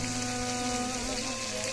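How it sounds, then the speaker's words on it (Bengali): Spice paste with garlic paste and salt sizzles in hot frying oil while cooking for a chicken curry with bottle gourd, potato and papaya, a steady dense hiss and crackle with no talk. "নেড়ে ছেড়ে মশলাটাকে তেলে কষিয়ে নিচ্ছি।"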